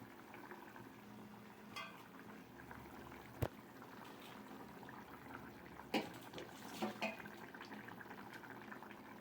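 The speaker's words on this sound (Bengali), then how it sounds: "ঝোলটা ভালো করে ফুটে গেছে, মাছগুলো দিয়ে দিচ্ছি এক এক করে" Fish curry gravy simmering in a pot gives a low, steady bubbling murmur, with a few sharper clinks and knocks from the pot partway through; no one speaks.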